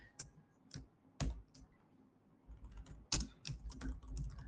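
Typing on a computer keyboard while coding a linked list program, a series of quiet uneven key clicks in short bursts with pauses, close and soft.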